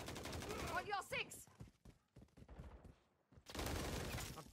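Rapid video-game gunfire in a multiplayer match: dense bursts of automatic shots at the start and end, with a gap of scattered quieter shots and a voice in between.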